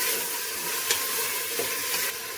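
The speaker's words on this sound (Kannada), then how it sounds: "ಹಾಗೆಯೇ ತರಕಾರಿನ ಎಣ್ಣೆಯಲ್ಲಿ 1-2 ನಿಮಿಷ ಫ್ರೈ ಮಾಡ್ಕೊಳ್ಳಿ." Peas, carrots, beans, field beans and peanuts frying in oil in a pan, a dense continuous sizzle with a few soft stirring taps, close and steady, no voices.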